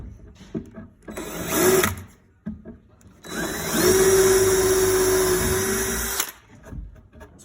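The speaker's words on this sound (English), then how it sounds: "I take a small drill bit, and I'm gonna angle that drill bit. So I'm gonna go through this top shelf, through the wall, into the stud." An electric drill with a small bit bores at an angle through a top shelf and wall into a stud, whining in two bursts, a short one and then a longer steady run, with quiet pauses between.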